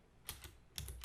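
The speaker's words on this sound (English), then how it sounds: "I'm typing out the same word just in different cases" Keyboard typing while writing Lua code for Roblox: a few quick, soft key clicks in two small bursts, close by and fairly quiet, with no talking.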